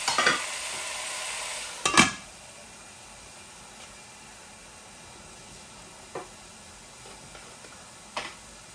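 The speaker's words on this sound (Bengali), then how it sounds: "একটু ভাজা ভাজা হোক।" A quiet, steady sizzle of vegetables, including turnip, frying in a pan, broken by a few sharp scrapes of stirring.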